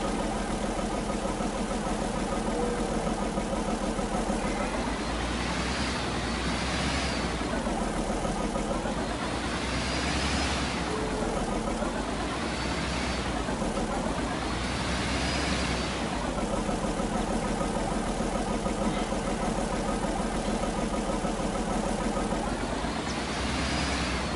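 A tractor engine runs steadily in Farming Simulator 19 while logs are handled, a continuous loud mid-pitched drone that swells and eases in slow waves, with no talking.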